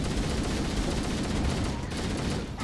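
Sniper rifle gunfire in the Halo: Combat Evolved video game, a dense, loud, continuous wash of game battle noise with no distinct separate shots.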